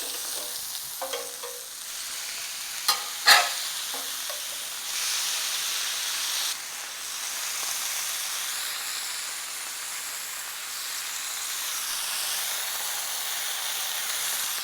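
Burgers topped with feta cheese cook in a hot pan, giving a steady loud hiss and sizzle with a few sharp spatula clicks and scrapes early on, no voices.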